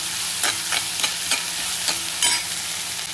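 Onions sautéing in a pan, a steady bright sizzle with repeated stirring scrapes every half second or so, close and loud, no voices.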